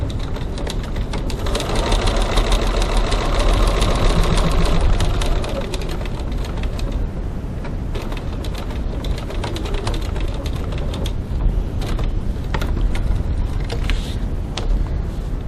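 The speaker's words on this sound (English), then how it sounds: "Back stitching to lock my threads." Sewing machine back stitching to lock threads on a fabric wallet pocket near a card slot, a steady loud mechanical whir running throughout with a slight swell midway, no talking.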